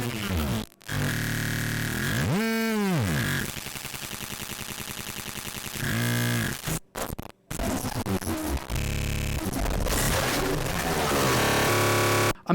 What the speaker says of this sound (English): This noise in the sort of like breaks comes from just a long string of, I'm pretty sure, granular experiments I was working on